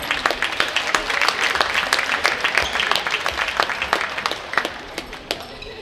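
Crowd applause at a youth handball tournament as the bronze-medal team receives its medals, a dense, sustained patter of many hands clapping at close range, with a few sharper claps standing out.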